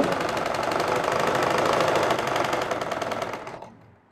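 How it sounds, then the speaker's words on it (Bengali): A sewing machine stitches pleats into a salwar, running in a fast, steady mechanical rattle at close range for several seconds before stopping abruptly near the end. "এখন সেলাই দিয়ে দিব"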